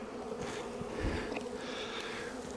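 Honeybees buzzing around an open hive during a fall inspection, a soft continuous drone with individual bees drifting close and away, heard alone without talk.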